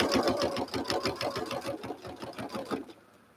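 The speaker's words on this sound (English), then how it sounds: "Now I can come in, small stitch, and carefully stitch the rest of the way." A sewing machine runs in small stitches along a zipper, a quick steady mechanical clatter close by that slows and fades after about three seconds, with no talking.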